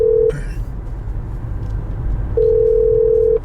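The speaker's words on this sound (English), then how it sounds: "so my phone was ringing" A mobile phone rings with an incoming call inside a 2018 Airstream Interstate van: a loud, steady electronic tone, a pause of about two seconds, then the tone again over a low vehicle hum.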